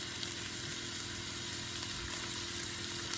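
Onion and garlic sautéing with ground meat in a pan for Texas-style chili, giving a steady, close sizzle with faint stirring, with no talk over it.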